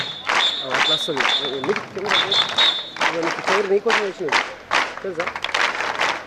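Crowd applause greets the Nizamabad players at a state-level junior boys' sports meet at a high school, a dense wash of clapping that runs throughout beneath a loud announcer's voice over a PA.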